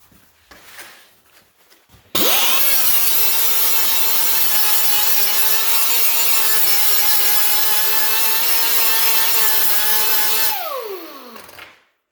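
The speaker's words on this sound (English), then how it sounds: "my grinder's up here, and I'm just faintly down into the 22 gauge. And all I'm doing, I'm just cutting it into it" An angle grinder bites into welds on thin 22 gauge sheet metal, spinning up sharply into one sustained, loud, high-pitched grinding whine that holds for about eight seconds before winding down.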